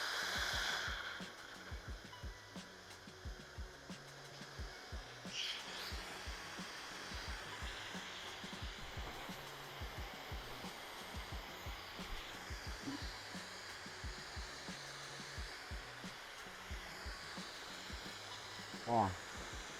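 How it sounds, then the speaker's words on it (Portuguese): Steady broadband whoosh of a hair dryer blowing continuously, with a voice talking over it. "A gente nunca seca um cabelo com o calor máximo do secador."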